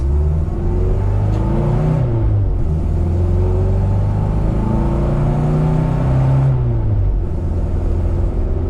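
A 1981 Mini 1000 on a test drive gives a loud, close engine drone from inside the car. Its pitch rises and falls as it accelerates and shifts through the gears.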